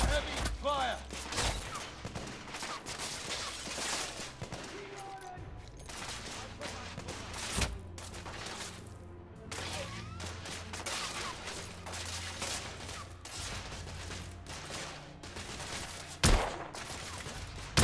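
Heavy gunfire rages in The Order: 1886, with dense bursts of shots and explosions filling the scene almost continuously, plus a sharp loud blast near the end, while voices call out in the background.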